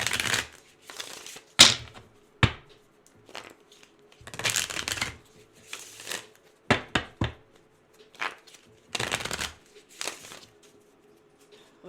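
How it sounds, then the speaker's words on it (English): Someone shuffles a tarot deck and draws a single card, producing a series of short riffling bursts and soft card snaps separated by quiet pauses, close and fairly crisp. "Let's pull one card from this deck."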